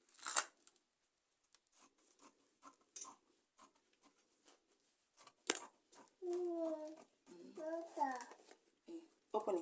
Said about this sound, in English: I'll cut it this way.